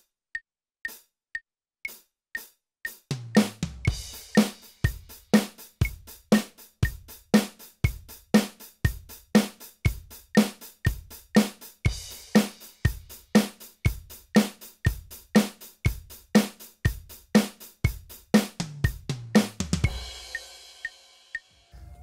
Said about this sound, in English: Our basic rock groove sounds like this.